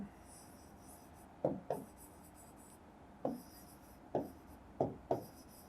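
Chalk scratching out a chemical formula for calcium oxide on a classroom board, several short separate strokes with quiet pauses between them, close and fairly crisp with no talking.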